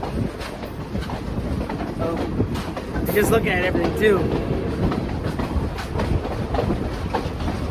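Excursion train hauled by steam locomotive 765 rolling along the rails, a steady broadband rumble with rhythmic clatter throughout, a brief higher squeal in the middle, and a person talking over it.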